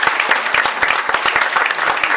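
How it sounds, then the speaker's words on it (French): An audience applauds a campaign team at the opening of a political office, a close, loud and even wash of many hands clapping throughout, with no speech over it. "Je vous demande de les applaudir."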